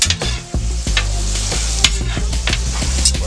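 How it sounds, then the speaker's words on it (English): Steak sizzles loudly in a hot pan alongside potatoes. A steady frying hiss carries intermittent stirring and scraping knocks, heard close with no talk. "We're gonna cook this steak down."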